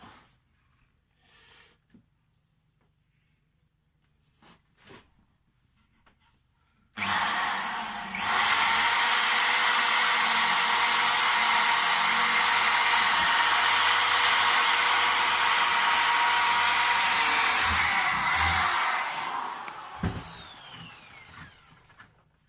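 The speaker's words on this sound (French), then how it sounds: "avec notre perceuse favorite et une mèche correspondant à la taille de notre élastique, on peut faire le trou" A power drill with a bit bores a hole for an elastic cord in a homemade build, a loud steady whine lasting about thirteen seconds before winding down, preceded by quiet handling knocks.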